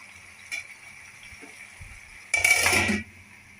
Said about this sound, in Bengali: এখন আমি ঢাকা দিয়ে দিচ্ছি